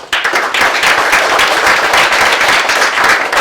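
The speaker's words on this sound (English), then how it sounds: "All right, let's give Steve a round of applause." A full audience bursts into dense, loud applause for Steve Haddadin, a CSUF alumnus and past REA president, a steady wash of many clapping hands sustained throughout without talk.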